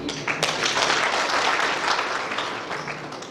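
Applause from an audience at a university talk, a steady wash of many hands clapping that swells and holds for a few seconds with no speech over it.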